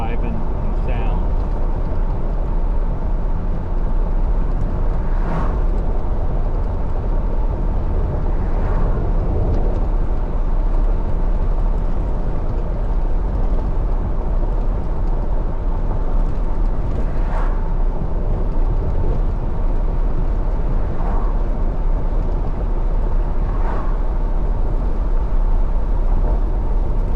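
Toyota Tacoma driving on a rough, potholed road, with a continuous low rumble of tyres and cabin noise and occasional jolts, while a voice talks over it.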